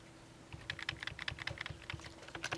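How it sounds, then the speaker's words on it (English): Fingers tap quickly on a computer keyboard in a lecture setting, with soft, uneven clicks over a low background hum. "why don't you just stop typing"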